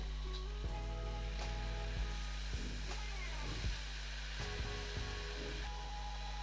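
Onion, ginger, garlic, tomato and soaked cashews sauté in a pan for a large batch of mixed vegetable curry, a steady broad hiss running throughout with several brief stirring knocks, sizzling continuously at moderate level with no talk.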